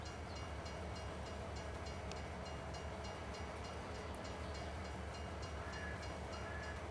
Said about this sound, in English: if anyone has never used the train before, this is how to use the train